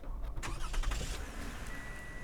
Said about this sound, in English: So to turn the car on, simple push-button affair with a proximity sensing key.